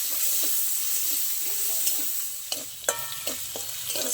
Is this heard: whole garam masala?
yes